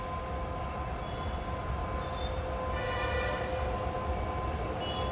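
The KSR Bengaluru–Hosapete Express, hauled by a WDP4 diesel locomotive, rolls into platform 1 at a station, a loud steady rumble of engine and wheels with a brief higher whine midway.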